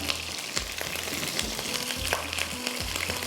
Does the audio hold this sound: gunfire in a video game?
no